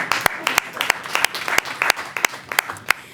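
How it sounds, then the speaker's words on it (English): A small group applauds, with scattered, uneven claps close by rather than a dense roar. "There you can applaud."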